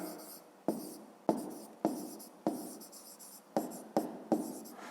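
Pen or pencil writing out a fifth-grade maths exercise on paper, a series of short scratchy strokes in bursts with brief pauses, close and fairly quiet, with no talk over it.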